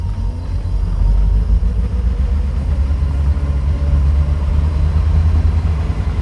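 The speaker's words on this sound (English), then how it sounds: "You can definitely hear the induction of the engine." Steady low engine induction rumble from a car with no windscreen, close and loud, holding a constant drone with slight fluctuations and no talk over it.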